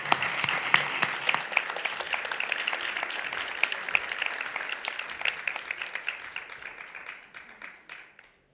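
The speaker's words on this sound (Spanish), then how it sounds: "les pido un fuerte aplauso para Álvaro" An audience at a book fair applauds a speaker being introduced, a brisk, bright clapping that holds steady before fading out toward the end.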